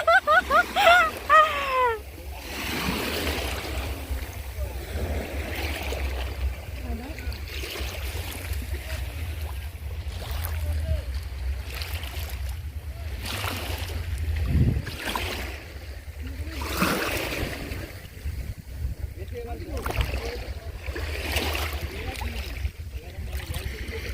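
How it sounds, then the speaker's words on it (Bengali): River waves at high tide along a riverbank, surging and lapping in irregular washes over a steady low rumble of wind and water for the whole stretch. "ঢেউয়ের শব্দ আর চারপাশের মন মাতানো পরিবেশ"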